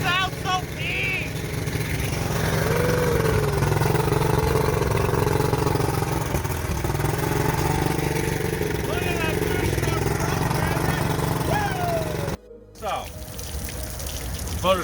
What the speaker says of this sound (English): Motor's running great.